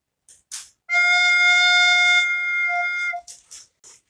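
A soprano recorder holds a single steady F, a bright, pure tone lasting about two seconds, close and clear, with brief soft sounds just before and after it.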